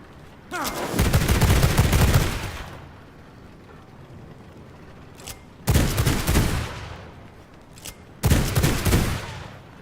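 Gunfire from a gun in the vampire survival game V Rising comes in three loud, close bursts, each a roughly two-second rattle of rapid shots separated by quieter pauses.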